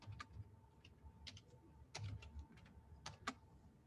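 Soft, sparse keystrokes on a computer keyboard come in small irregular clusters, quiet and close, with no talking.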